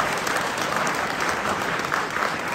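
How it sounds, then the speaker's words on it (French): Steady applause from a crowd at an honoring ceremony in a city hall, a dense wash of clapping that holds at an even level throughout with no voices standing out. "Sous vos applaudissements, s'il vous plaît."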